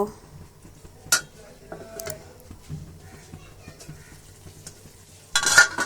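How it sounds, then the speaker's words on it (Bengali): Spinach stirred and turned in a cooking pan in a home kitchen, giving soft scattered scrapes and light clinks of the utensil against the metal, with a louder rustling clatter bursting out near the end. "যে আমি উল্টিয়ে পাল্টিয়ে নেড়ে ছেড়ে এখন ঢেকে দেব"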